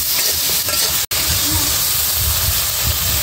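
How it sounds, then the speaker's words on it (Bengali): Vegetables sautéing with turmeric and chili in a pan, a loud close hissing sizzle with stirring sounds, broken by a brief dropout, with a voice talking faintly underneath. "হলুদ মরিচের সাথে সবজিটা মিশিয়ে নেব। সবজিটা কষিয়ে নেবো"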